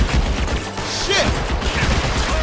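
A Tommy gun fires in the crime game L.A. Noire, a dense, loud rattle of shots mixed with other game noise and faint shouting throughout.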